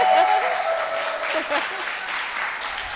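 Applause from a TEDx audience at a Cipero Street talk starts loud, then fades within a few seconds as a voice begins speaking over the thinning clapping.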